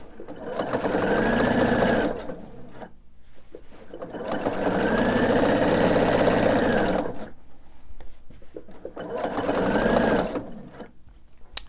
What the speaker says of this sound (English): I'm just going to sew with all my raw edges together, my 1/4 inch seam